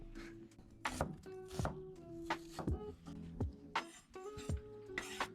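Onions being chopped outdoors with a knife, separate thunks on a board repeating at uneven intervals, with faint clatter and a low hum between strokes.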